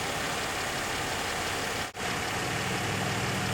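After a repair, a car engine idles with a steady, even rumble throughout, broken only by one momentary dip.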